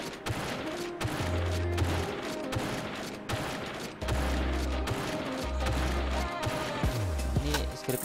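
AS-50 sniper rifle shots in a Free Fire-style mobile shooter game, several quick booming reports spaced a second or so apart, fairly faint with game effects around them.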